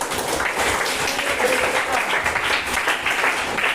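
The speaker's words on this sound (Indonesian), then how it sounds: "tepuk tangan untuk kelompok 3 dulu" A class of students claps for a group during a physical education lesson on the long jump, a steady, dense patter of hands that holds at an even level throughout with a little background chatter.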